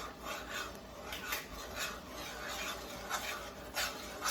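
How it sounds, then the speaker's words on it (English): Sugar pours and rasps into a pot of boiling strawberry rhubarb jam, a steady gritty scraping and rubbing with repeated stirring strokes, fairly quiet and close with no talking. "I will be adding the sugar."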